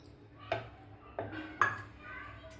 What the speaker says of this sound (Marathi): तोच पॅन मी पुन्हा गॅसवर ठेवलेला आहे